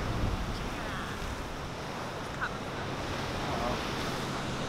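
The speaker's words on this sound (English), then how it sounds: "there are massive waves right now and everybody's surfing" Massive ocean waves break at a North Shore O'ahu beach as surfers ride them, a loud, continuous roar of surf and wash filling the scene, with faint voices mixed in.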